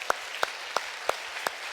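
A congregation gives a standing ovation at a Sunday worship service at New Song Church. Five sharp, evenly spaced claps land in unison at a brisk, regular beat over a faint background hum.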